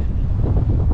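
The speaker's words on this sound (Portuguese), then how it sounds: "Esse vento, ó." Steady wind buffets the microphone aboard a sailing kayak on a river in the Pantanal, a loud, rough, continuous rumble with no voices.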